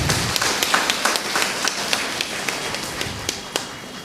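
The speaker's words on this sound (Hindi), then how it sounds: "जोरदार तालियां बजाइएगा" Audience applause at a Christmas Eve gathering honouring a priest, heard as a steady patter of many hands with sharper individual claps standing out at moderate distance, continuing for about four seconds without speech.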